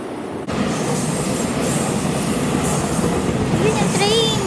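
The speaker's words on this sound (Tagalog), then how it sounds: "Yun yung train!" A train rushes past in Taiwan, loud and close, with a sudden onset of rumbling wheels, rattling cars and a brief high wheel squeal near the end.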